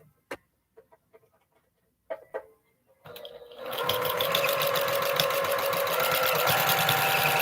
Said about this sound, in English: I'm going to sew a 1/4 inch on both sides of this line